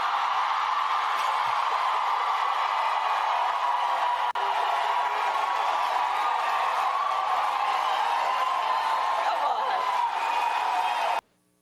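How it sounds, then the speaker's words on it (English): A large crowd roars and cheers wildly, a steady loud wash of many voices and whoops sustained for about eleven seconds before cutting off abruptly. "You see how the crowd went crazy?"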